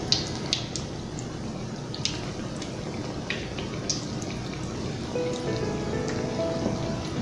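Flour-dredged liver pieces are laid into a hot skillet of oil and frying for Southern liver and onions, giving a steady close sizzle with scattered pops and crackles and no talking.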